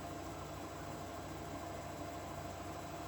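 An electric motor rated from 0 to 1,725 RPM, running on a variable frequency drive, makes a steady low hum with a faint buzz. The tone stays even and unbroken throughout, with no talk.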